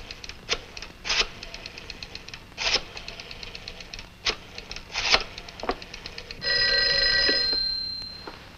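An old telephone in a 1949 film noir scene rings with one loud, sustained bell tone near the end, after a run of scattered sharp clicks and knocks. No one speaks.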